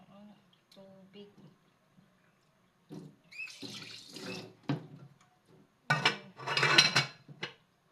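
Tap water running intermittently into a kitchen sink at home, bursts of splashing and gushing mixed with clinks of dishes, with someone speaking quietly in between.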